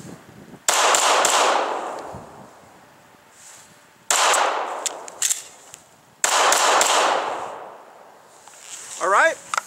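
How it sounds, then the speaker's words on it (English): Pistol shots at a five-yard shooting drill come in three loud, sharp bursts that ring out and decay, with quieter gaps between them and a brief voice near the end. "then we'll fire 2 or 3 rounds"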